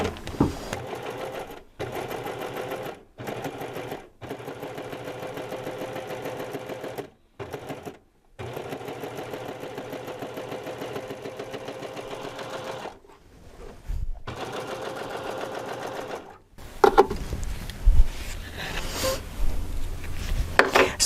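A serger runs a 3-thread narrow stitch along a curved seam, whirring steadily and close in long runs broken by short stops, ending with some handling noise.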